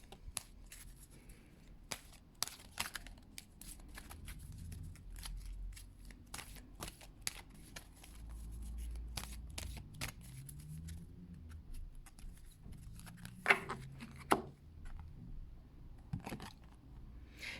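Oracle cards are shuffled by hand for a card reading, producing quiet, close papery riffles and soft slaps in irregular bursts over a faint low background with no talk.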